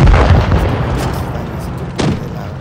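Tank cannon fire in the video game World of Tanks: a loud, heavy boom opens, then its rumble fades, and a second, softer blast follows about two seconds later.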